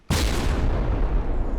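Massed cannon and anti-aircraft fire from a battleship armed with roughly 274 weapons in a video game, one loud dense barrage that erupts suddenly and keeps roaring without a break.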